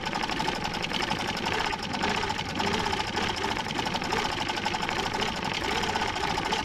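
Sewing machine running steadily through a scribbly free-motion stitch of tight little loops on a stencil background design, a continuous fast mechanical whir with even rhythm that holds close and loud throughout.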